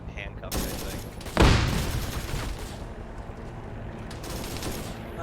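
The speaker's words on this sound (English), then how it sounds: "We're getting shot at by Americans now, even though we're handcuffed, I think." Gunfire in a Vietnam War video game, a burst of shots and a heavy blast followed by continued rattling fire, fairly loud and close.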